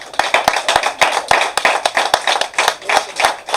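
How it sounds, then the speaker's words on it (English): Worshippers at a Sunday church service clap their hands together in a quick, lively rhythm, many sharp claps close by and loud with no talking over them. "Give the Lord a hand clap."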